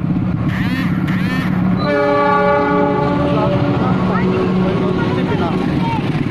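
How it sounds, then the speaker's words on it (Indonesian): An empty cement freight train rumbling slowly past up close, loud and continuous, with squealing wheels and a sustained tonal whine riding over the heavy rolling noise. "berjalan perlahan masuk jalur 2 kereta api semen kosong"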